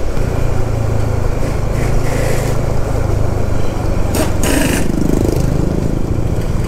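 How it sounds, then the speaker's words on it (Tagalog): Steady loud road noise from jeepney tires rolling along a road in General Tinio, Nueva Ecija, with a continuous low engine rumble throughout and brief bursts of rushing hiss partway through. "Akala ko ano yung maingay, sa gulong pala. Sa gulong ng jeep."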